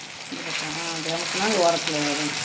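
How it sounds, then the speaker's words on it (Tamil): Waval fish frying in oil on a home stove, a steady bubbling sizzle running throughout, with a person talking over it. "மீனை பாருங்கள் நல்லாவே வெந்துட்டு சூப்பராக பொறிச்சு எடுத்தாச்சு"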